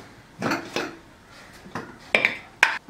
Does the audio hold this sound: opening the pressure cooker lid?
yes